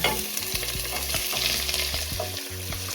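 Washed callaloo greens hit hot oil in a pot and fry with a loud, steady sizzle, while a spoon scrapes and stirs in short repeated strokes throughout.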